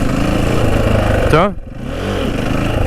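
A motorcycle engine is revved by the throttle while practicing wheelies, a close rising whine that peaks and drops away, heard under someone speaking.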